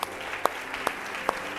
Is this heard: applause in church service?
yes